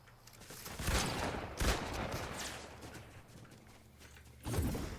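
Pump shotgun gunfire in an Unreal-ranked online shooter match. A few heavy blasts come at irregular intervals over a constant background of game noise, with more distant shots under the mix and no talking.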